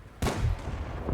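A single sharp tank cannon shot from a Swedish low-tier tank destroyer in World of Tanks, a sudden loud blast that decays over about a second.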